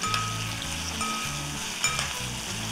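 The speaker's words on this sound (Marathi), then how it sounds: "आता हे कांदा जरा परतून द्यायचं" Onion sautés in oil with mustard seeds and curry leaves for a cluster bean curry, giving a continuous close sizzle over a low background hum, with a couple of faint stirring clicks.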